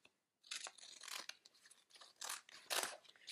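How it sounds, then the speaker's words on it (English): Scissors snip and slice through paper while a card is cut out, giving crisp crunching and rustling cuts in short bursts, close by and fairly quiet, with no voices. "So grab your scissors, being careful,"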